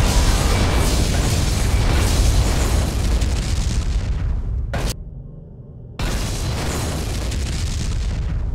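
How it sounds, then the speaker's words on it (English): A Borg vessel explodes in Star Trek: Legacy: a loud, sustained booming blast with rumbling debris that cuts out briefly, then the heavy roar resumes at full strength. "Borg vessel destroyed."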